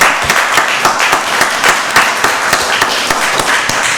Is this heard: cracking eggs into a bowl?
no